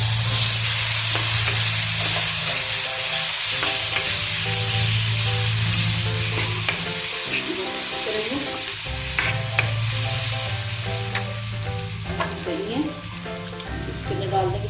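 Chopped vegetables and onions for a vegetable biryani sizzle and fry in a pan while being stirred, a bright crackling hiss with intermittent scraping, heard close over soft background music.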